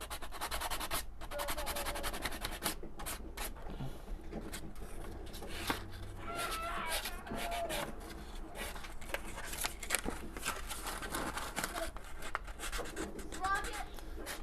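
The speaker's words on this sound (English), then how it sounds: "And now this is just sanding" A styrene scale model is sanded by hand to give it a weathered patina, producing quiet, repeated scratchy rubbing strokes at close range, with a voice now and then.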